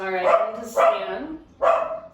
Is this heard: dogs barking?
yes